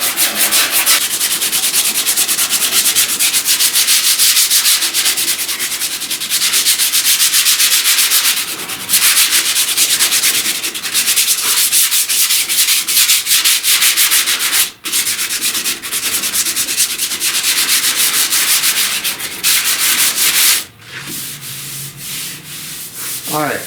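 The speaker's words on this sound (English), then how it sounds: "all I'm doing here is sanding the sand scratches out with 80 grit" A car body panel at a cab corner dent repair gets sanded with 80 grit sandpaper in loud, continuous rough rasping strokes, close up, with a few brief pauses between passes.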